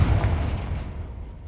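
Confringo blasting spell explosion in Hogwarts Legacy, a deep boom already underway that rumbles and fades over about a second and a half, loud and close.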